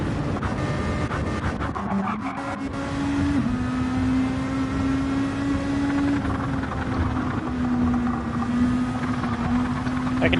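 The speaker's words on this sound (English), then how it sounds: "I think that's the exhaust." Race car exhaust roars steadily through a Gran Turismo NASCAR race, a continuous loud engine drone with a rising, shifting pitch and crackly texture, no talking over it.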